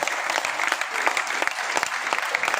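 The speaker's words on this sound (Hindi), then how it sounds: "एक बार जोरदार तालियां होनी चाहिए।" Seminar audience breaks into dense, steady applause, many hands clapping together at close range for the full length, with no break in the sound.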